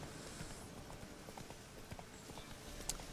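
Roach, the player's horse in The Witcher 3, trots along with steady clip-clop hoofbeats, even and continuous at moderate loudness against a busy game ambience.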